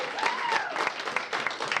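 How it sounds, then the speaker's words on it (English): Live audience applause at a comedy podcast taping: a short burst of clapping from a small crowd under a continuous voice, with a whoop or cheer near the start. "Round of applause for him"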